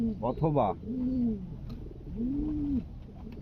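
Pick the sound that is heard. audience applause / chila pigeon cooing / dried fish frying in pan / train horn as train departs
chila pigeon cooing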